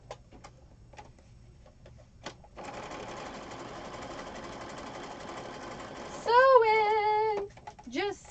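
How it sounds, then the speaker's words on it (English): After a few soft clicks, a sewing machine hums steadily for several seconds. A voice comes in near the end. "Sewing! Just sewing away."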